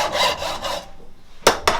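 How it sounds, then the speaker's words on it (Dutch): A handsaw cuts through protruding pieces of wood with short rasping strokes. Several close strokes come first, then a pause, then two sharp final strokes. "Ik zaag nu die uitstekende stukjes eraf."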